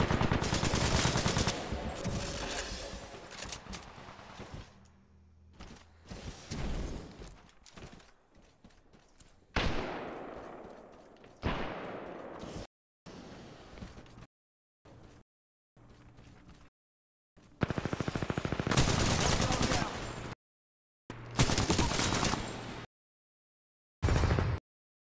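An automatic weapon fires in Titanfall 2 in loud, rapid bursts with a chugging rhythm, broken by short silent gaps and scattered impacts across the sequence.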